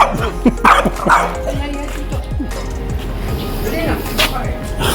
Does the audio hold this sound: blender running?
no